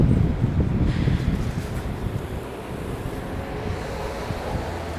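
Steady south wind blowing outdoors downtown on a warm November day in Atlantic Canada, a continuous low rushing roar with gusty buffeting against the microphone, loud and without speech.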